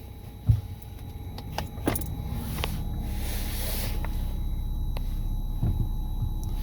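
A Porsche Cayenne S from the 2011–2017 generation, with a transmission fault, starts moving: a low engine rumble and hum with a few sharp clicks and key or switch sounds at the start, then a steady idle-like drone.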